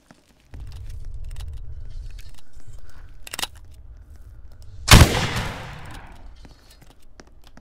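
A gunshot in the video game Apocalypse Rising: one loud, sharp crack with a crunchy decaying tail rising above a steady low background hum, no voices present.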